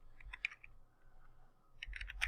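Typing on a computer keyboard, a few soft key clicks, then a short pause, then another quick burst of taps, faint and close in a quiet room.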